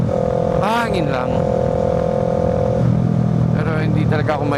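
A big bike motorcycle rides along a provincial road between Bamban and Capas, its engine giving a steady, close drone with a brief rise in pitch midway, mixed with wind rush.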